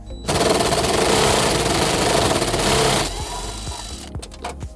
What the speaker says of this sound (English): We're going to use a 10mm socket to remove it.